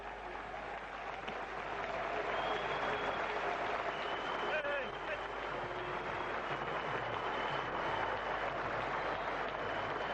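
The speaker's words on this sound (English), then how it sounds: "being applauded by the gallery there" Steady applause from a cricket crowd in the gallery at a West Indies versus Pakistan test match, greeting a batsman's second century; continuous and distant, with a commentator's voice faintly underneath.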